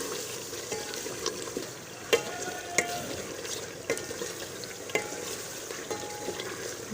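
Chicken curry masala sizzles and fries in a pan while a spoon stirs it, soft crackling throughout with several sharp scraping clinks of metal against the pan, close and moderately quiet.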